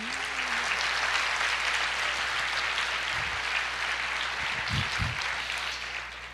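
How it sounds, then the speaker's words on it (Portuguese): A church congregation applauds in a broad, sustained wash of clapping from many hands that fills the room evenly for several seconds, with a few low thumps and a brief voice early on. "Você pode aplaudir o Senhor e dizer, eu creio."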